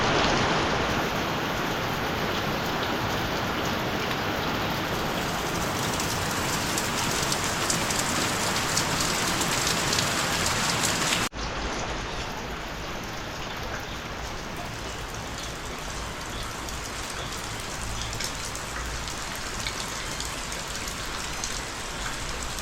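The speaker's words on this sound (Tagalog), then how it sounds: "tumila na nga po yung ulan mga kautol" Steady rain pours down at a campsite, a dense continuous hiss loud and close, with a brief dip partway through before it carries on at a slightly lower level.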